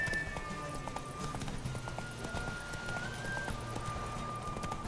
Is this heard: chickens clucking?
no